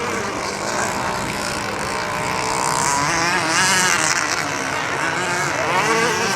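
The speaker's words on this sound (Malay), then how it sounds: "Bot RC tengah bermain di bawah" Several radio-controlled model boats race on the water below a riverside spot in Sri Aman, Sarawak, their motors producing a continuous high buzzing whine that rises and falls in pitch as they speed around, heard from some distance.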